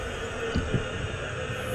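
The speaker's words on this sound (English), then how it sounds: "are we gonna have the stupid heartbeat noise playing the entire time?" Low-health heartbeat effect in Saints Row: Gat Out of Hell, two soft low thumps close together over a steady game hum, with no talking.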